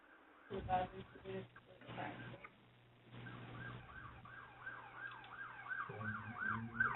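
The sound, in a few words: siren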